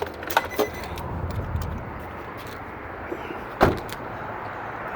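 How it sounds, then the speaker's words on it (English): A 2017 Nissan NV 2500 SL wheelchair and mobility van with 14k miles has a door pushed shut, one solid close thud partway through. A few small light clicks and rattles come earlier against a quiet outdoor background. "Let me get those keys out of there before I shut this door."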